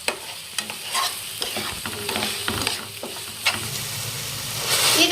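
Egg tawa pulao is stirred and fried in a pan over a high flame, giving a steady sizzle broken by repeated scraping and clinking strokes of the spatula, close and moderately loud with no talk.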